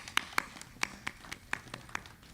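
A few people in the audience at an outdoor Chanukkah celebration in Carefree, Arizona clap, making sparse, distinct hand claps in an uneven rhythm, fairly close and moderately loud.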